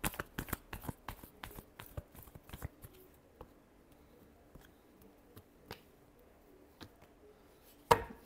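Tarot cards shuffled in quick riffling bursts for the first few seconds, followed by scattered single card taps and one sharp snap near the end, close and fairly quiet with no talking.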